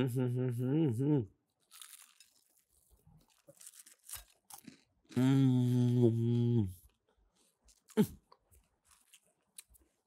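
Crunchy bites into a KFC fried chicken breast piece: a few sharp, crackling crunches between stretches of voiced sounds and laughter, close to the mic.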